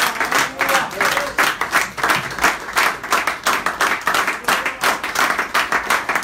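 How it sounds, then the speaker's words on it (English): Church congregation clapping together in a steady, rhythmic burst of many hands, fairly close and lively, continuing throughout without a pause. "Let's clap it for them"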